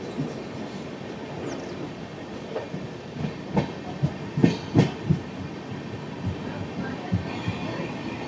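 Okha–Ernakulam Express creeping slowly through a Gujarat work zone, a continuous rail rumble broken by a cluster of sharp wheel clanks and knocks in the middle, with some faint background voices.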